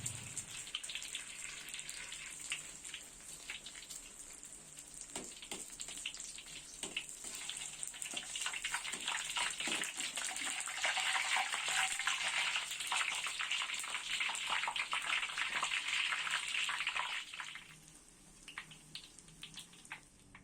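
Egg batter for honeycomb-style fritters sizzles and crackles steadily in hot oil over medium heat. The frying noise is close and continuous, swelling louder midway and then easing off toward the end, with no talking.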